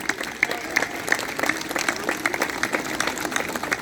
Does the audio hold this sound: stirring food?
no